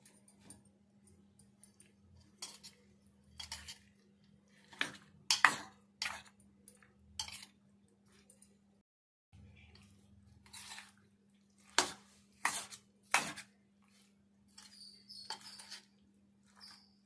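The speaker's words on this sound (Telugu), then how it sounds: "కొంచెం వేసుకొని కలుపుకుందాము. అంతా కలిసేదాకా కలుపుకుందాం." Soft, wet squishing and dripping as homemade tomato chutney is stirred together with roasted cumin-fenugreek powder, scattered irregular clicks and squelches over a faint hum, close and quiet.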